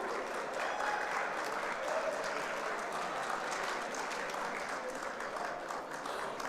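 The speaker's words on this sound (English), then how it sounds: "Give him a huge round of applause" Sustained applause from a conference audience at WordCamp Nepal, steady clapping throughout at moderate distance, with faint cheering mixed in.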